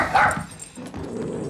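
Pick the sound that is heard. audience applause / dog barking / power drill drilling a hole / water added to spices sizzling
dog barking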